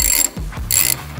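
A ratchet snugs the bolts of a 2-inch lowering kit on a 2002-2023 Harley Touring motorcycle, two quick bursts of loud, close ratchet clicking separated by a short pause.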